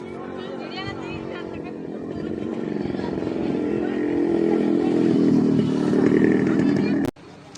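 A motorcycle engine runs steadily and close by at Sivanmalai Murugan temple as riders climb on. It grows slightly louder toward the end, then cuts off abruptly, with a murmur of voices around it.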